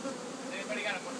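Honey bees hum in a steady, close, dense buzz around queen cells at a bee farm, with no talk over the swarm.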